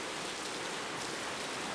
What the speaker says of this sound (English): we had a storm come in, and this is, I don't know if this is picking up all the rain, but this is a stormy day